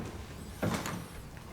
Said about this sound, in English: As we open up the door